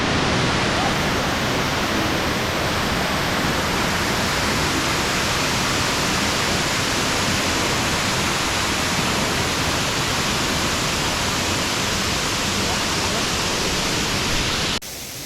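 Goa Raja cave waterfall in Bali pours beside a natural pool in a cave, a loud, unbroken roar of rushing water that holds steady throughout.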